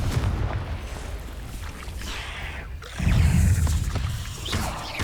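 A Confringo blasting spell explodes in Hogwarts Legacy, a deep rumbling boom that swells midway over a low, dense background of battle noise, with no voices.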